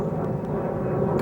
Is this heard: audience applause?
no